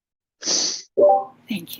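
A single sharp sneeze from a person on a live Discord chat, loud and close, followed by a short spoken thanks.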